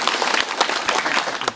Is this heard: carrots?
no